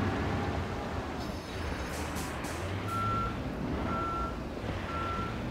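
Truck reversing in the game Construction Simulator, three evenly spaced electronic backup beeps over a steady low engine rumble, clear and moderately loud.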